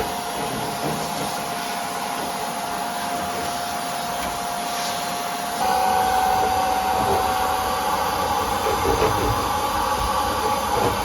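Vacuum hose drawing lint from deep inside a clothes dryer vent, a loud continuous whining suction whose pitch steps up partway through as the airflow changes.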